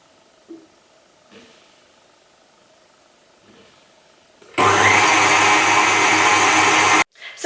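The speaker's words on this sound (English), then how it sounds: "I've just finished combining all of the ingredients together in the KitchenAid" KitchenAid stand mixer mixing cinnamon roll dough switches on after a few quiet seconds with faint knocks, then a loud steady motor whir runs for about two and a half seconds before cutting off abruptly.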